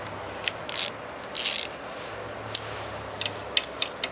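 Ratchet turning an 8mm deep socket near the serpentine belt tensioner on a Volvo V8, heard as two short buzzing bursts followed by several scattered quick clicks, close and fairly quiet.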